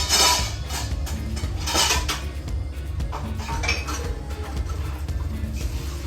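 Spices and coconut oil stirred together in a bowl, a steady clatter of a spoon scraping and clinking against the dish, close and continuous, set against a constant low background hum.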